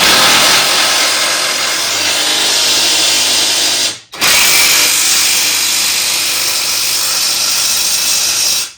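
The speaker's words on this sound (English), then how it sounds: "I use a pry bar, pry it up a little bit, stick the socket on there, and then put the impact on it" A cordless impact wrench with a socket runs down a bolt on a Can-Am Maverick Turbo R suspension, a loud, steady buzzing whir in two long bursts split by a brief pause, with no talking.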